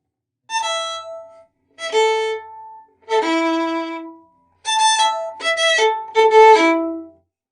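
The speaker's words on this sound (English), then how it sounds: "the theme from the opening movement is marked allegro ma non troppo" Opening theme of the first movement of Beethoven's Ninth Symphony, marked allegro ma non troppo, played by an orchestra in six separate phrases with brief pauses between them, clear and fairly loud with no talking.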